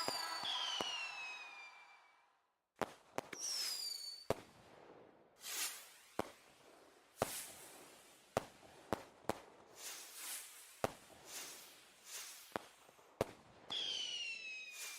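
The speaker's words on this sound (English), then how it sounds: "Fireworks for Gaga." Fireworks sound effect during a Wordle game stream: a string of sharp bangs and crackling bursts with whistling rising rockets at the start and end, loud and close, with no talking.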